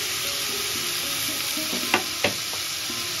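Baby corn, onion and capsicum stir-fry in a hot pan with a continuous loud sizzle, broken by two sharp clacks of a spatula against the metal; no voices.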